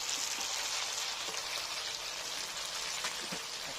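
Cassava chips deep-fry in hot oil, producing a dense, steady bubbling hiss like rain, with faint knocks as a slotted ladle stirs them.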